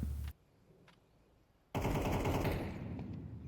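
Gunfire in Counter-Strike during a competitive match: one short burst, a long silent gap, then a loud sustained spray of rapid automatic shots that trails off toward the end.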